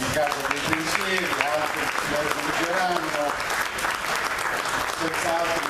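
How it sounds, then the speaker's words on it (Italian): An audience at an Italian award ceremony for the Targa Paolo Volponi applauds, a steady dense wash of clapping throughout, with voices talking over it. "qui va l'applauso in casa dei pensieri"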